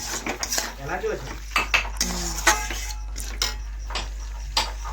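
Chicken being cooked and stirred in a pot, with a metal utensil clinking and scraping repeatedly against the pan at close range in an uneven rhythm over a steady low hum.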